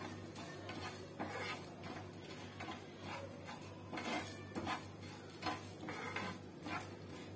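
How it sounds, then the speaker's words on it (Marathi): Soft clinks and scrapes of a utensil stirring mustard seeds, cumin and garam masala roasting in a pan over very low heat, with quiet rhythmic scraping and light kitchen clatter, no talking. "राई, जिरं, गरम मसाला थोडं आपण परतून घ्यायचं आहे बारीक आचेवर"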